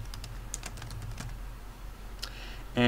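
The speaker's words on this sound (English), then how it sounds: "let's just say Jim is typing in here that he likes to go to the beach" Someone types on a computer keyboard during a classroom demonstration of a school's Google Apps. Irregular key taps patter close by for a few seconds, and a louder noise starts right at the end.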